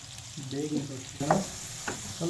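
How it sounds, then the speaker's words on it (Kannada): Onions frying in oil in a pan for a palak chicken dish, with intermittent stirring and scraping sounds over a low background sizzle, close and moderately loud. "ಎಣ್ಣೆಲಿ ಚೆನ್ನಾಗಿ ಫ್ರೈ ಆಗಿ ಅದು ಕಲರ್ ಚೇಂಜ್ ಆಗೋವರೆಗೂ ಫ್ರೈ ಮಾಡ್ಕೋಬೇಕು"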